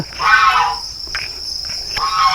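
Crickets on a cricket farm buzz and chirp in uneven, rasping bursts, fairly close and loud, with a steady high whine underneath.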